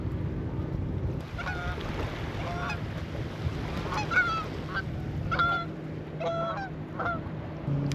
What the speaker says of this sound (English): oh, we got some Canadian geese flying by.